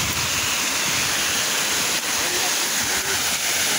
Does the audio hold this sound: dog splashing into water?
yes